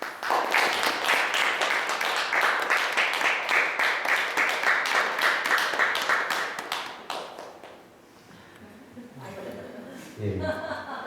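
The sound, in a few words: audience applause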